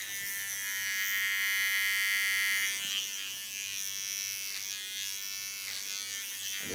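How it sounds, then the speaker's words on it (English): A small Theo Knoop hair clipper with ultra fine teeth buzzes steadily while cutting hair, a close, even electric hum that softens slightly midway as it moves through the hair. "It's a small clipper of Theo Knoop."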